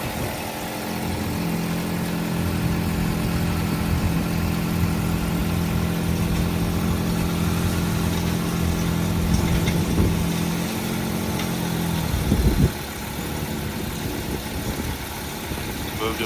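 A 2011 Chrysler 200 engine idles steadily after starting, a low constant hum that runs for about twelve seconds before cutting out, with faint background noise from an outdoor police auction lot.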